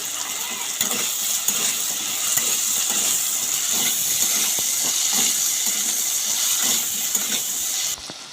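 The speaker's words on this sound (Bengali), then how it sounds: "এখানে দেখো বন্ধুরা আমরা আলুটা ভেজে নিচ্ছি" Potatoes salted and sprinkled with turmeric fry in hot oil in a pan, a loud, constant sizzling hiss with scattered small crackles and pops, holding steady until it cuts off near the end.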